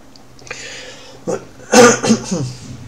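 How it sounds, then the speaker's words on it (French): A short, harsh cough from a sick man bursts out close by, followed by a couple of smaller throaty coughs after a quiet, breathy start. "je tousse encore un peu"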